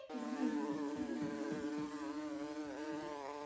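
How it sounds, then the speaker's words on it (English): A small bee buzzes in one steady, unbroken drone. The tone wavers slightly, and no other sounds join it. "And now back to being a small buzzing bee."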